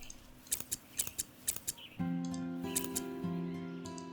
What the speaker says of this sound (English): We'll trim everything back.